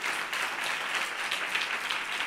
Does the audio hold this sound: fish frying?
no